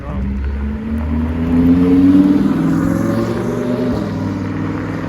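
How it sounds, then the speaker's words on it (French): A Lamborghini Huracan V10 passes by with a loud engine roar that swells to a peak and then fades into a lower, receding drone. "Donc là on a le beau bruit du V10 donc qui vient de passer."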